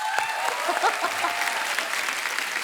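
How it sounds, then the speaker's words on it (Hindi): Steady studio audience applause on a comedy talk show fills the short stretch, a dense wash of many hands clapping with a faint voice briefly audible beneath. "जोरदार ताली हो जाए"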